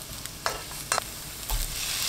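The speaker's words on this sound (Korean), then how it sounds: "식용유 1큰술, 파 넣고 센 불로 1분 볶습니다." Chopped scallions stir-fried in a tablespoon of cooking oil over high heat, a steady close sizzle broken by a few brief scraping stirs, with no talking.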